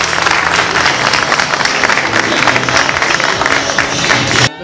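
Loud, sustained audience applause fills a workplace safety and hygiene symposium hall, dense clapping continuing steadily before cutting off abruptly near the end.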